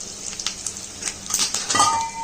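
Curry leaves, black pepper, lentils, cashews, and dried red chillies sizzle in hot oil over a low flame for a temple offering, a steady crackling hiss with a few brighter pops and clinks of a pan.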